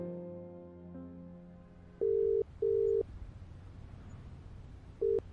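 Two short beeps and a longer tone, like a phone call being dialed and connecting, sound through a quiet room after a soft fading hum, each beep clear and evenly loud.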